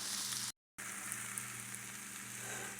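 Cabbage and sausage sizzle steadily in a pan, a close, even frying hiss broken by one short gap of silence.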